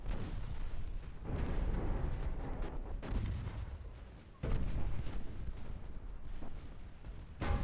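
Naval guns of a fleet in the warship game Ultimate Admiral: Dreadnoughts fire repeatedly, a dense rolling barrage of booms with louder salvos near the start and middle, fairly faint overall.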